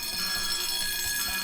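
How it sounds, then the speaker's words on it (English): A heat-triggered motion sensor alarm sounds with a steady, continuous high electronic tone, moderately loud and unbroken, with no talking. "As soon as he enters the room, his body heat is picked up by the sensor, and the alarm starts to sizzle."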